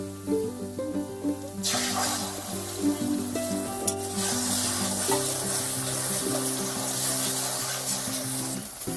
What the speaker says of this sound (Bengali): গুলে রাখা ডিমটা দিয়ে দেবো